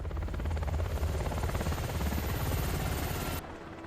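Helicopter in a Walking Dead TV scene, a loud, steady thudding rotor beat with engine roar that holds for about three and a half seconds, then cuts off abruptly.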